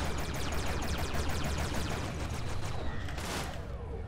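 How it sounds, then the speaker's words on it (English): In the space game Everspace, a missile fires at an enemy ship over a steady stream of rapid weapon fire and engine rumble. A bright rushing launch burst flares near the end, then fades. "I'm actually gonna just shoot a missile at him."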